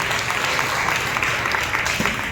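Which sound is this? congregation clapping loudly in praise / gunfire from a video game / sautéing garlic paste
congregation clapping loudly in praise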